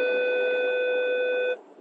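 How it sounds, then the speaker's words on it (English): A car's sensor warning sounds as one steady electronic tone lasting about a second and a half and then cutting off abruptly. Only a faint background hum follows. "The car sensed another vehicle, which has actually passed, so it stopped it, but that's what that beep was for."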